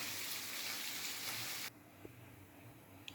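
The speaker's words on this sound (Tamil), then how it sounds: "புளி கரைச்சி ஊற்றியாச்சு" Tamarind water pours into a cooking pot of sambar with okra, a soft steady rushing hiss for under two seconds that cuts off abruptly, followed by quiet room sound and a faint tap.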